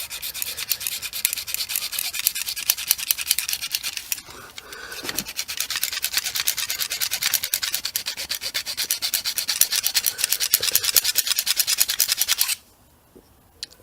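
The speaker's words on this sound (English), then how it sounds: "So a bit more sawing." A hand saw cuts through plastic on a Hoover Junior U1040 vacuum cleaner, giving a steady, rapid back-and-forth rasping at close range for about twelve seconds before it stops abruptly.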